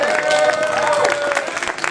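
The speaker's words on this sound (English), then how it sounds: "Let's give David a round of applause" A convention crowd at an anime game show applauds a contestant, a short dense burst of clapping with light cheering and voices mixed in.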